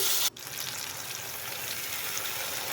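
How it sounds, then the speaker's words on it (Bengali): Water splashes into a pan of frying spiced potato and eggplant masala, a sharp pour at the start giving way to a steady, close hiss and sizzle that carries on alone. "এরপর আমরা জল দিয়ে দিচ্ছি"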